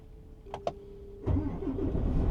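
A car engine cranks and catches, with two short clicks before it, then settles into a steady idle, close and fairly quiet.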